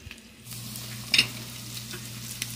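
Pork frying in a pan alongside cheese and egg at a lakeside cook, a soft, close, continuous sizzle with small crackles and a brief stir partway through.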